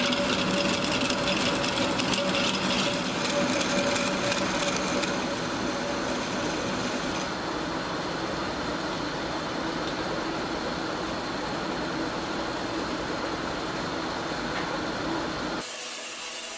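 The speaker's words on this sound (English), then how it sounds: "Now I'm going to bore the recess that will accommodate the nut." A boring tool cuts a nut recess into the hub of a wooden Sarven buggy wheel in a wheelwright shop, giving a steady, continuous machine whir and grinding drone that runs the whole time with no talk, then drops off abruptly at the end.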